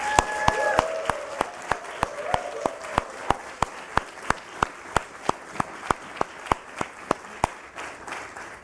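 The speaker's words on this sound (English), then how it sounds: "let's get things kicked off with a big round of applause before we start" Clapping rings out at a Nasdaq closing bell ceremony as sharp, evenly spaced claps in a steady rhythm, with a voice briefly heard at the start.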